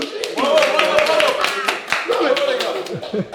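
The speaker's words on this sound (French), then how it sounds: "on peut s'applaudir." A small group clapping for themselves during a livestream, quick brisk claps with voices talking and laughing over them.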